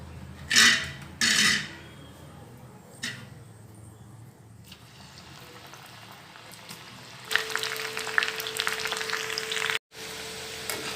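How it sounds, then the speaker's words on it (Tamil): Ginger pakoda batter deep frying in hot oil: a couple of clanks and light clatter come first, then a loud, steady bubbling sizzle builds in the later part before a brief cut. "மீதி இருக்கிற மாவையும் இதே மாதிரி பொரித்து எடுத்துக்கலாம்"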